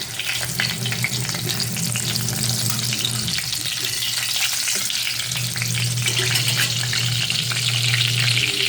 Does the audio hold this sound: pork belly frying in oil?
yes